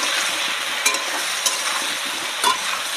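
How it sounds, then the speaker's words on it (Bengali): Potatoes frying in oil with salt and turmeric in a pan in a village kitchen, a steady close hiss with occasional scraping stirs and a few sharp clinks, no voices. "ভালো করে লাল করে ভেজে নেব।"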